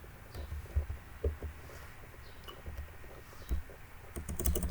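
Keys on a computer keyboard clack in short, uneven bursts, quiet and close, with a brief flurry of faster presses at the end.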